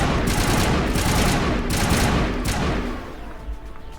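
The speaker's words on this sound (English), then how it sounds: "That's a shotgun. The shotgun's so bad," A video-game shotgun fires in quick succession, several sharp bursts in the first three seconds before a quieter tail, with little talk over it.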